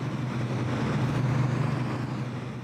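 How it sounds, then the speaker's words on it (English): Constant low droning hum of stacked crypto-mining computer servers and their cooling fans, a steady moderate-level whir with no variation and no voices. "It is stack upon stack of computer servers, and the fans needed to cool them."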